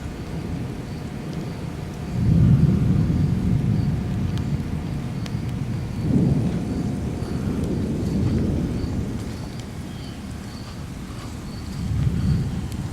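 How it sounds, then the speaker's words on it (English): Distant thunder rolls in several low rumbling swells over steady rain and wind noise outdoors, with no one talking. "Listen to that thunder."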